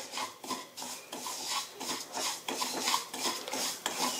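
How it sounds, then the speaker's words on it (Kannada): Garden cress seeds (halvi) roasting in a pan, stirred with a utensil that scrapes and rasps against the metal in a steady repeated rhythm, close and fairly quiet, with no talking. "ಆಳ್ವಿ ಹುರ್ಕೊಳಕತ್ತೀನಿ ನೋಡ್ರಿ"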